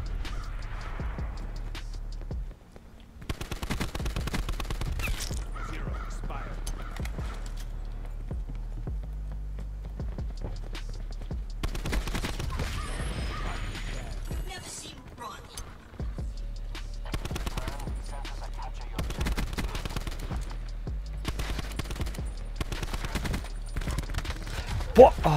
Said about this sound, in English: Someone's using a silencer there.